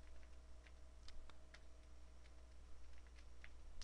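Code is typed on a computer keyboard in a quiet room, with sparse, faint key clicks in irregular bursts over a low electrical hum.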